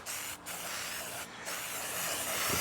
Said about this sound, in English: Spray them one more time.